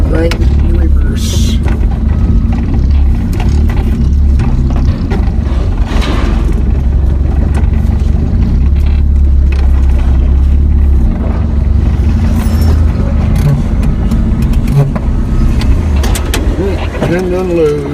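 Vehicle engine idling and revving low while reversing a trailer during a scrap run in the northern Sacramento Valley; a loud, steady low rumble throughout with some mechanical rattling and a person talking over it.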